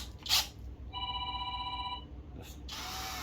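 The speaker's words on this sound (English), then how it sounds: "And my phone's ringing, don't pay attention." Phone ringtone during a DIY bottle hummingbird feeder build: a clear electronic ring with steady tones, about one second long, rising out of quiet room noise, with clicks before and after.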